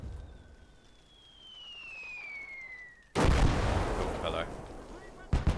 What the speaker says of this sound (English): Let's have the mortar keep dropping shells on it.